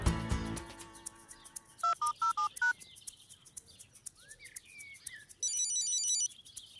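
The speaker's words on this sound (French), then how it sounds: "Là, j'entends sa sonnerie." A mobile phone ringtone plays in the French children's cartoon Tractor Tom, a short tonal chirping melody after a burst of dialing beeps and music, ringing out clearly in a quiet scene.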